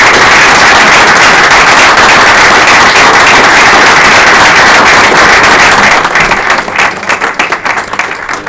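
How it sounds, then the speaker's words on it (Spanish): A conference audience in Spain bursts into loud, dense applause that fills the room steadily for about six seconds, then thins into scattered claps and a fading ripple. "vamos a darle 2 aplausos a Cayetana"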